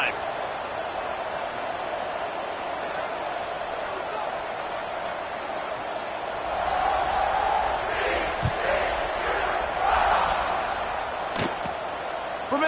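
Stadium crowd in College Football 26 roars steadily throughout, swelling louder in the second half with scattered whoops and a sharp slam-like hit near the end, under a game announcer's voice.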